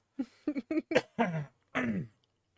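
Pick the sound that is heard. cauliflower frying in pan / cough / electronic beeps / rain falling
cough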